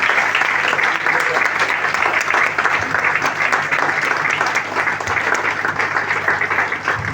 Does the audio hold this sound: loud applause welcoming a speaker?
yes